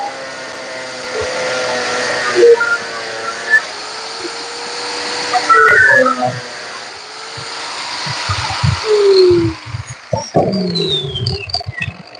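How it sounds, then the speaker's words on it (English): A grinder cutting into a plastic taillight housing during an LED modding job gives a continuous harsh whine, with squeals and pitch sweeps and some irregular scraping and clunks toward the end. "Plastic is hot when you use a grinder on it"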